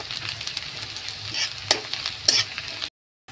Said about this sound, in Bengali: তেলে আমি পেঁয়াজটা দেওয়ার পরে পেঁয়াজটা হালকা লাল হওয়া অবধি আমি ভেজে নেব।